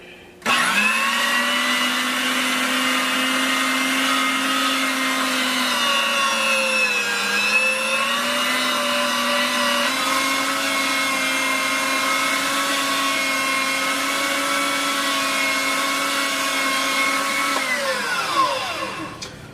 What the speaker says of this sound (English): the last bit of that meat just went through the grinder, and got a good bit of just ground meat